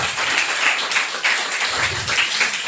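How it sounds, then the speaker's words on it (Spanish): Church congregation applauding during a Sunday service led by a pastor, steady mid-level clapping from many hands throughout, with slight pulsing swells and no voices over it. "Dele un aplauso al Señor porque el Señor es bueno"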